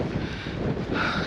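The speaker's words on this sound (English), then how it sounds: "So windy." Strong wind buffets the microphone in a steady, loud roar with gusting rumble, high on a moorland hill climb in winter.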